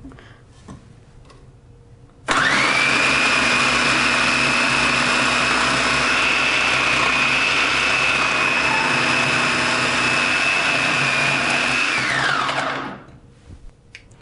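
A Black and Decker 8-cup food processor shredding carrots with its disc, a loud steady motor whine starting abruptly after a quiet lead-in, holding constant for about ten seconds, then winding down and cutting off.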